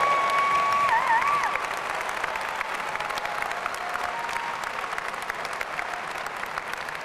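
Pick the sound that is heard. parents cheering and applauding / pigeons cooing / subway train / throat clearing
parents cheering and applauding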